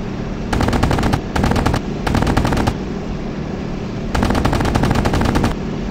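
Rapid bursts of anti-aircraft flak fire in the Battleground Europe World War II flight game, three loud bursts of continuous rattling shots separated by short pauses, with a steady rumbling background.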